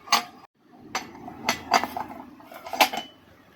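A Karizma motorcycle clutch pressure plate is fitted into place by hand, producing several sharp metallic clinks and knocks at irregular intervals, close and fairly quiet between hits.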